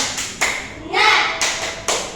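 Schoolchildren in a classroom perform a rhythmic spirit clap, a few sharp, close bursts of clapping in a quick pattern, with young voices joining in.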